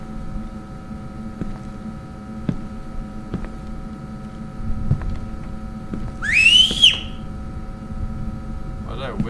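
A rising whistled tone rings out briefly in The Backrooms 1998 video game, a single clear whistle over a low steady hum and soft ticking ambience, with a faint chirp near the end.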